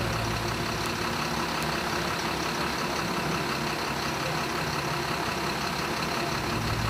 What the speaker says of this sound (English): We're now turning on the air compressor